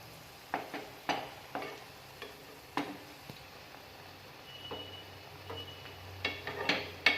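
Rava vada frying in oil and flipped in the pan, with a quiet sizzle under a series of soft taps and clinks from the turning utensil, close, with no talking.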